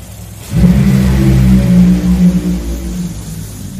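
A Funny Car drag racing engine in a qualifying round, with a loud, deep engine roar that starts abruptly, holds and wavers for several seconds, then eases off.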